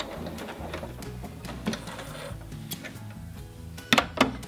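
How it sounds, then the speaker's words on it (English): A sewing machine runs a row of stay stitches along a baby onesie, giving a steady rapid mechanical chatter with a few sharper clicks near the end. "run a row of what's called stay stitches all the way"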